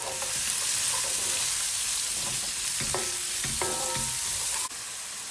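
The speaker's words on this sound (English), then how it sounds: "While the onions are cooking" Onions frying in a pan on medium-low heat, a steady close sizzle with occasional stirring clatters and scrapes, no voices.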